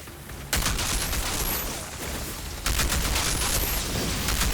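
Rapid bursts of gunfire in the Outriders video game, with a Technomancer in the Asylum area; dense crackling volleys start suddenly, ease slightly, then surge again, loud and close.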